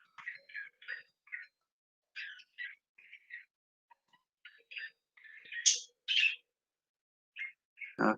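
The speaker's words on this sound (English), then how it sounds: "There's the birds." Birds chirp and whistle in short bursts against near silence outdoors, with repeated bright calls and brief pauses, ending in a louder rustle.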